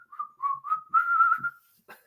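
A person whistles a short melodic tune alone, a few clear sliding notes close and fairly loud, ending with a brief breathy sound.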